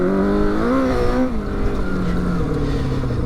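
A 1000cc tuk tuk with a dirt-bike setup ridden around a small field, its engine droning loud and close, the pitch rising then easing down steadily.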